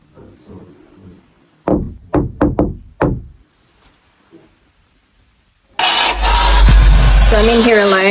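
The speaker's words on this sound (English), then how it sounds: "I'm gonna knock. Can you knock back?" Knuckles rap on a wall in a dark, quiet room, a quick series of about five sharp knocks with brief pauses between them, followed by a sudden loud burst of electronic static and warbling tones.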